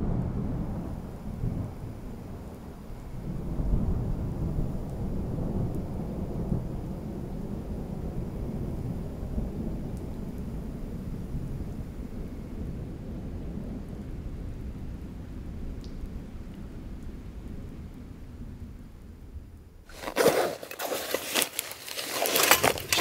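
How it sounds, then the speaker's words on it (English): Low, rolling thunder rumbles continuously over steady rain, then a sharp, loud crack of thunder breaks through near the end. "I've been hearing thunder for the last hour or so"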